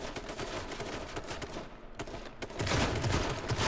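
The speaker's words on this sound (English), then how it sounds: "I got my shotgun whipped out. Can I damage you?" Shotgun blasts in the H1Z1 video game, a dense run of rapid overlapping gunfire that swells louder toward the end, heard alone with no talking.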